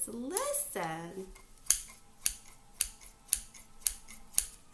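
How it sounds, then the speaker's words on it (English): A pair of scissors snips repeatedly, about seven sharp crisp cuts at a steady rhythm, close and clear, following a brief spoken voice at the start. "Scissors make a sound."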